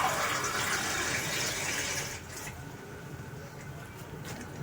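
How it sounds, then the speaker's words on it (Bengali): A cup of water is poured into a pan of sugar to make syrup, a steady gushing rush that fades to a softer trickle and bubbling partway through, with no talk. "এবার এর মধ্যে আমি 1 কাপ জল দেব।"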